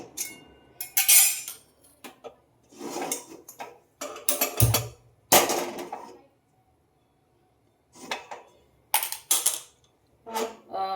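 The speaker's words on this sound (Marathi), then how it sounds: "तर आपण कढाई ठेवलेली आहे ही" A metal kadhai is set down and handled on a stove while making carrot halwa, giving bursts of clanking and scraping separated by short quiet gaps.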